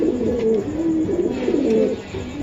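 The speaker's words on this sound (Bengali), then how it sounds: "এই যে ভাই এটা মাদি কবুতর ভাই, সিঙ্গেল একটা মাদি ভাই" Racing pigeons, including a single female, coo in a steady series of soft, rolling calls close by, with no one speaking.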